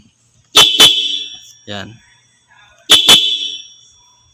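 Two short blasts from a car's stock horn sound close and loud, then a brief spoken word, then another pair of honks.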